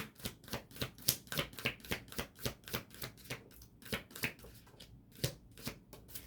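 Tarot cards shuffled by hand, a steady run of about a dozen crisp, close riffling bursts with short pauses between them and no voices.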